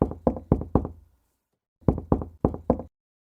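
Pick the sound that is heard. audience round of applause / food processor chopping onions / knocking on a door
knocking on a door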